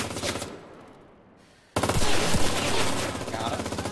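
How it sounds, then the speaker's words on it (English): Rapid automatic gunfire in the battle royale game Cuisine Royale, a loud stuttering burst of shots that kicks in suddenly after a quieter stretch and keeps rattling on, up close and alone. "Are we getting shot at right now?"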